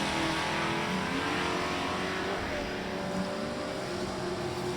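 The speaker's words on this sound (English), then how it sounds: "Dan got that 4-cylinder Ford Mustang there in the left lane." Engine roar of a 4-cylinder Ford Mustang at a drag strip, steady and loud throughout with a strained, droning tone, mixed with track ambience.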